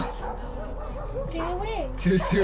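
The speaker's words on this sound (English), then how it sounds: "Oh, that's a dog. Oh, and there's your dog!" A small pet dog yips and whimpers briefly near the end while people talk over it in a room.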